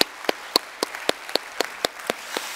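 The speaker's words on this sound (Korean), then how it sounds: "우리 큰 박수로 한번 우리 축복하며 환영했으면 좋겠습니다" A church congregation applauds in a light, scattered way, with about a dozen separate sharp claps spaced irregularly over a couple of seconds at moderate volume. No one speaks.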